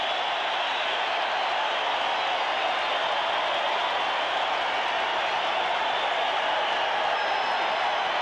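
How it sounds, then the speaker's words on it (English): A sellout crowd at Coors Field cheers and applauds during a 1995 NLDS playoff baseball game, a roaring, steady wall of noise from the stands that holds throughout. "a sellout crowd on their feet here at Coors Field"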